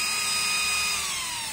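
A brushed DC motor runs unloaded at 12 volts, spinning fast with a loud, high whine and bright overtones that sag slowly in pitch.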